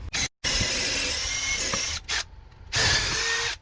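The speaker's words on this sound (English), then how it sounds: "for the pre-drilling, I'm going to use a 3/16 wood drill bit" A cordless drill with a 3/16-inch wood bit whirs in a few short bursts with brief pauses between, close and fairly loud, pre-drilling into wood.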